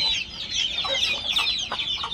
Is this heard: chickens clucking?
yes